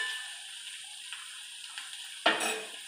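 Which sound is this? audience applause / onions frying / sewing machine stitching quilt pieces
onions frying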